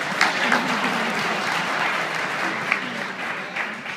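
Warm, steady applause from a modest audience at a jazz trio concert continues evenly, with a few sharper individual claps standing out and faint voices beneath.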